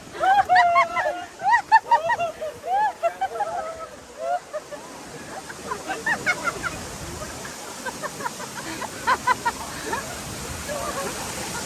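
Shower water runs with a steady hiss, heard beneath excited talking that fades as the rushing spray continues alone.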